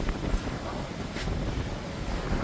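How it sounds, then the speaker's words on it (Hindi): Strong storm wind blows across a rooftop, roaring and buffeting the microphone in continuous low rumbling gusts that stay loud the whole time. "सोचा कि आप लोग को भी दिखा दूँ कि तेज हवा चल रही है,"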